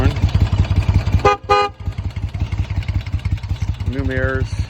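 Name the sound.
horn of a 1973 Moto Guzzi Eldorado 850 motorcycle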